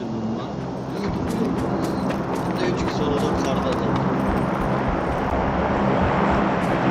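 A steady, loud engine drone from an airplane flying overhead in the PUBG video game, droning continuously throughout beneath players talking.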